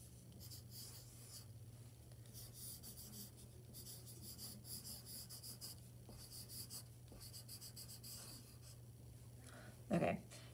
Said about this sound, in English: you can either use a pencil and kind of trace it out